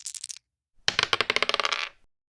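Dice rolled during a podcast game, heard as a short burst of clicks, a pause, then a longer run of rapid, close rattling clatters that slow and settle to a stop.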